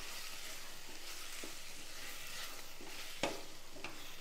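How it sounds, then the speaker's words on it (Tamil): Red chilli and tomato chutney sizzles softly in a pan as a spoon stirs it, with faint scrapes and one sharper knock near the end, fairly quiet overall. "லேசாக 2 பெரட்டிட்டு ஆஃப் பண்ணி ஆற வச்சிடலாம்."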